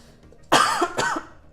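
Two close, abrupt coughs from a man, the second following about half a second after the first, against near silence.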